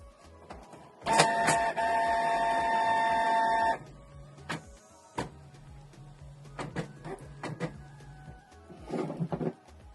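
A Canon PIXMA G650 inkjet printer powering up, first a loud sustained mechanical whir with a steady tone for a few seconds, then a series of clicks, taps and shorter motor runs as it initialises, close and with no voices.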